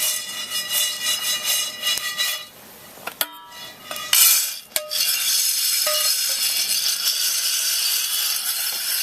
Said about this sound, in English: If you listen real close, you can hear the second crack starting. It's like a lot more rapid but quieter.